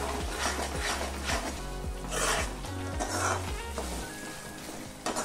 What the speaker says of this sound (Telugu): ఈ పండు మిరపకాయ కూడా బాగా వేగి నూనె బయటికి రావాలి, అంతవరకు మనము వేపుకోవాలి